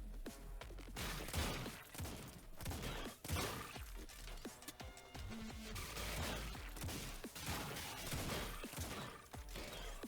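Shotguns firing in the video game Autogun Heroes, heard as a dense, continuous barrage of crackling blasts and impacts at low level, with irregular bursts and no speech.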